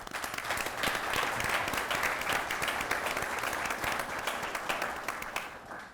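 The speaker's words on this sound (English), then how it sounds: "want to give you a round of applause as well" Audience applause at a university law school conversation event, a continuous patter of many hands clapping at moderate level that carries on for several seconds and tapers off at the close.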